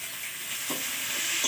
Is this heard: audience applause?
no